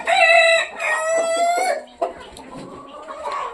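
A rooster crows loudly and close by, a long drawn-out call, then hens cluck softly in short scattered bursts from a poultry flock, with no voices.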